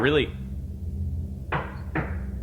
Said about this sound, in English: that's a loud knock